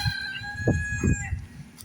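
Chickens approach as a rooster gives a brief crow, a short, strained call over low clucking and shuffling nearby, all within a couple of seconds.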